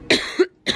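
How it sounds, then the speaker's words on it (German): Two sharp coughs from a person with a cold, close and loud, separated by a short pause, with no talking. "Auf jeden Fall habe ich mega Husten."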